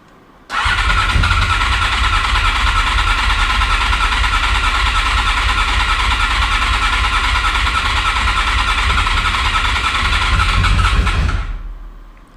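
Cold start of a motorcycle, one of a CBX1000, VFR750 or K1200LT, run on partial choke: the engine catches and settles into a loud, steady, close-up idle for about eleven seconds, then cuts off.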